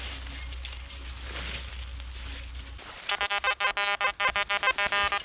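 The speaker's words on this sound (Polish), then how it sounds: "Jest to sygnał na żelazo." A Quest XPointer Max pinpointer gives its iron signal in a forest, a rapid run of short, bright electronic beeps that pulse evenly for about two seconds after quieter rustling.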